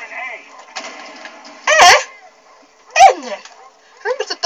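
Attack dogs in the video game Call of Duty Black Ops give a few short, sharp bark-like bursts with whimpers between them, heard over faint game background.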